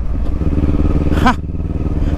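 A Kawasaki 400cc motorcycle hums steadily while being ridden, with one quick rising squeal of a gear change midway, heard close and alone.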